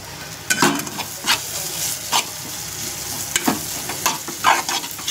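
Homemade onion-coconut masala paste roasting in a pan with turmeric and spice, a steady close sizzle broken by repeated scraping stirs of a spoon against the pan, no voices.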